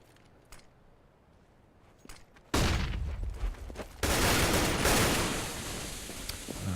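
Counter-Strike gunfire in a competitive match: a few sparse shots, then a sudden burst of dense rapid automatic fire that continues loudly, with another surge of heavy shooting midway.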